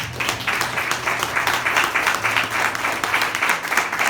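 A church congregation applauding during a sermon, a loud, sustained burst of many people clapping together, with a low steady hum underneath and no speech.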